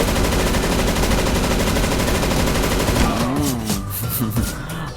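Rapid gunfire fills the first three seconds of a CS:GO round with a shotgun in hand, loud and dense, then breaks off into scattered shots under a spoken voice.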